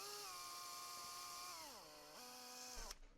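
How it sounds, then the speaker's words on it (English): A small electric drill whines at high speed pre-drilling screw holes in a model aircraft, its pitch sagging and recovering as the bit bites, then cutting off abruptly with a clunk; close and continuous for about three seconds. "I'm going to pre-drill the holes. So I have got here electric drill"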